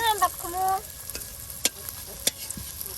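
Lentil fritters (bora) fry in oil during rural village cooking; a brief voice sounds at the start, then faint, scattered crackles and a couple of sharper pops come over a quiet sizzle.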